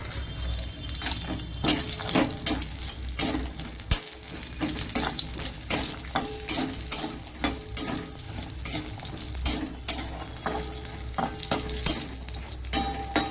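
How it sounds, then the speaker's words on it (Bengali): Hand-made bori lentil dumplings frying in hot oil for a vegetarian cabbage dish, a continuous crackling sizzle with frequent spatula scrapes and stirs, close and steady throughout. "বড়িগুলো ভেজে নেব"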